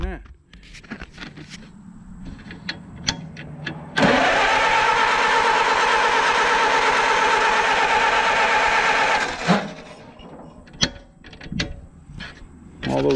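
A car's starter cranks steadily for about five and a half seconds in one long, even grinding whir, with a faulty Bendix drive, and the engine never catches; scattered clicks and handling noises come before and after.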